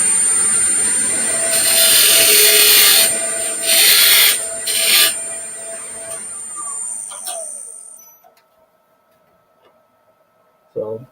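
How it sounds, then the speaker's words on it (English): A wooden piece turns on a lathe while a tool takes light cuts, making a few rough scraping bursts over a faint motor hum that fades to near silence, ending with a short knock. "So as I'm turning, I'm trying to go in about a 16th of an inch."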